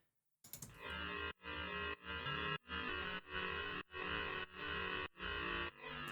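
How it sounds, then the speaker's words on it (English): A synth sound passed through two ring modulators in a row comes out harsh, metallic and crushed, with little low end, pulsing in a steady series of sustained chopped notes separated by brief gaps. "I've got two ring mods in succession."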